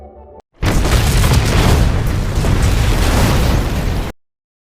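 A module explodes on Mars in a film scene: a sudden loud, close blast that swells into a thick, rumbling roar for several seconds before cutting off abruptly.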